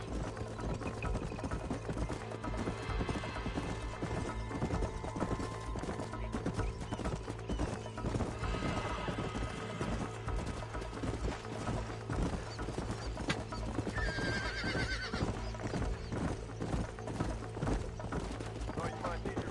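A horse in Red Dead Redemption gallops steadily with rapid rhythmic hoofbeats throughout, giving a short whinny midway, under dense game ambience and music.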